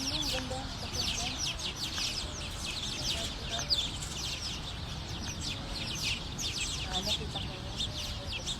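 Chickens cluck and call steadily amid outdoor ambience in a park in front of a city center, with repeated short clucks running throughout at moderate distance and people talking nearby.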